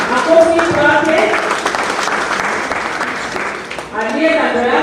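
A church congregation at a Sunday service gives a round of applause, broad clapping mixed with a voice speaking over it, dipping briefly near the end before rising again.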